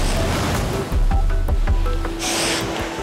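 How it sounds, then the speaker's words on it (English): Sea waves crash and churn against rocks on a coastline where goose barnacles grow, a loud, close, continuous surge with heavy low rumble and a bright wash of spray rising in the second half, buffeted by wind. "The waves are knocking me all over the place."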